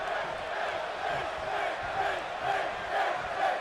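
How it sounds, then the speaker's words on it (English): A WWE 2K video game arena crowd on Monday Night Raw backs champion Finn Balor, a steady wash of cheering and shouting with swells and rolling surges, loud and continuous. "There you hear this crowd already behind the WWE Champion Finn Balor"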